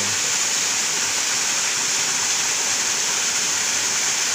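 Ambon Falls in Laiya, Lobo, Batangas pours in a loud, steady roar of falling water, a constant broadband rush heard close with no voices.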